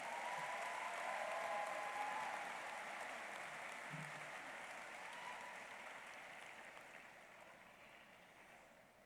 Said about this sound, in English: Another round of applause for the orchestra and the choir.